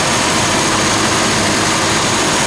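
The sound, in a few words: 1948 Ford Super Deluxe flathead V8 engine running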